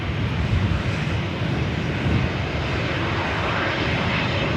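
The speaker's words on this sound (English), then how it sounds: "Up first, it will be Lufthansa, the A380 Super coming in from Munich." A Lufthansa Airbus A380 arriving at LAX on its approach from Munich, a loud, steady, broadband engine roar that holds throughout with no talk.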